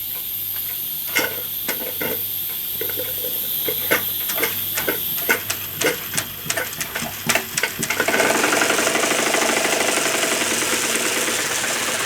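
A small steam engine with its boiler at about 30 psi drives a laser-cut plywood mini helicopter kit, giving a string of close, rapid clicks and knocks that give way to a loud, steady hiss of escaping steam.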